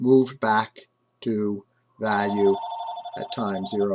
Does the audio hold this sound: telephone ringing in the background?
yes